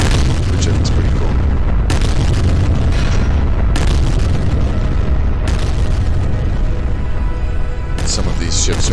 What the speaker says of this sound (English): Some of these ships are actually starting to explode as well